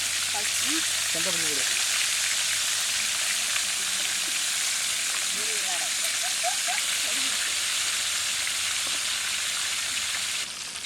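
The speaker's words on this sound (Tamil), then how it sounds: "மசாலா தடவன டிஸ்கோ சங்கராவை எண்ணெயில பொரிச்சுக்கலாம்." Masala-coated disco fish fries in hot oil with a loud, continuous crackling sizzle, while faint voices come through briefly in the background.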